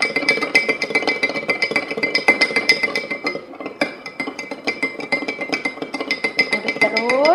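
Bubble solution stirred in a glass, a steady run of rapid clinking taps against the glass, close and clear with no talking over it.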